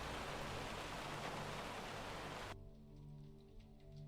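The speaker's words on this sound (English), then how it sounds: "I wish I could leave the rain on because it's nice" Steady rain hiss in the Minecraft video game, loud and continuous for about two and a half seconds, then cut off abruptly, leaving only soft background music with a few faint tones.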